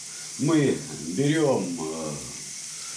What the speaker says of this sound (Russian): потихонечку его до золотистого цвета поджариваем. Пока у нас жарится лучок